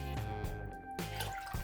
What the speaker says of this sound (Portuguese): nós vamos colocar a água